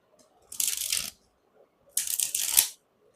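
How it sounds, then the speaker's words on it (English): Two short bursts of papery, crisp rustling of a tarot deck being shuffled close up, with quiet pauses around them. "One more shuffle."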